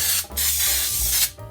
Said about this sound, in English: I'm going to be using Baker's Joy non-stick cooking spray.